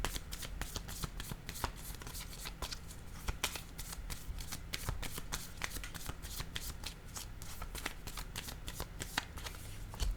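Tarot cards handled and shuffled, a soft steady riffling and flicking of card edges with sharp snaps as individual cards are laid down, close and quiet.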